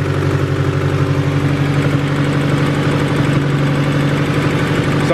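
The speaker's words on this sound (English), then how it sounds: "Sounds like we got a little exhaust leak at the header." A Honda Del Sol engine idling steadily nearby, with a rough, ticking puff from an exhaust header leak riding over the low rumble.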